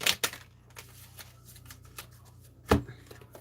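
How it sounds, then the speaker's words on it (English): A deck of playing cards is shuffled by hand, quiet soft riffling and flicks with a few sharper snaps, fairly faint and close. "I'm just going to sit here and shuffle"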